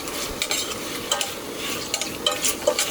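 Seafood stir-fried in red sundubu sauce in a pan, with steady sizzling and repeated scraping and clinking of a utensil stirring against the pan, close and with no voices.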